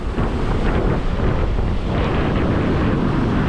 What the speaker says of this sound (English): Look at the size of them waves.